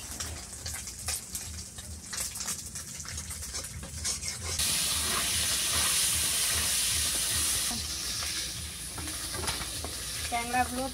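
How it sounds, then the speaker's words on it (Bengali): Small tangra fish frying in oil in a pan in an Indian village kitchen, a steady broadband sizzle that swells louder midway, with stirring scrapes and occasional clinks, close and continuous with no talk. "ট্যাংরাগুলো ভাজা হয়ে গেছে, এটাকে আমরা তুলা ট্যাংরা বলি।"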